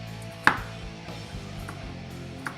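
A knife slices thin strips of peel off a lime for zest, with one sharp close cut followed by faint scraping on a board against a quiet background.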